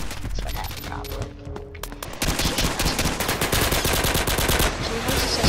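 Rapid gunfire in the shooter video game Pixel Strike 3D, a dense burst of repeated shots that turns continuous and louder partway through, with a faint voice underneath at times.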